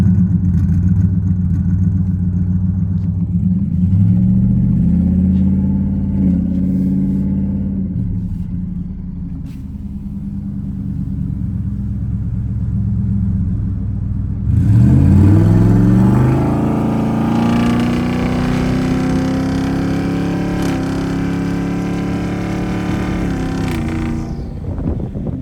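Coyote-engined Ford F-150 with a 10-speed and boost, a loud close engine drone rising and falling under part throttle through several gear changes, then surging into a harder, rougher pull that holds high before easing off.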